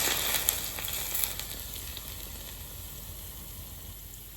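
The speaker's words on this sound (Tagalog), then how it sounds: "We're going to make it a sizzling oil" Hot olive oil sizzles and hisses steadily after being poured over chopped spring onion, loudest at first and then settling into a softer, even crackle.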